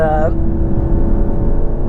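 An Alfa Romeo on the road gives a steady low engine drone and road rumble inside the cabin, with a short higher tonal sound at the very start.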